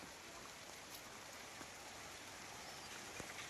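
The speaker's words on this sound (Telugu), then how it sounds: "ఇప్పుడే స్టార్ట్ అయింది ఇక్కడ వాన." Rain has just begun falling, a faint, even hiss of drops on surfaces that stays steady and unbroken throughout.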